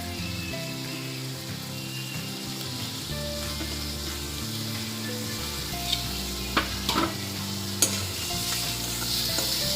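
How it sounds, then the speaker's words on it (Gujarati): Onions sizzle steadily in hot oil in a pan for a Gujarati vegetable dish, a constant close frying hiss with a few sharp clinks of a stirring spoon partway through. "ડુંગળીને બરાબર સાતળી લેવાની છે"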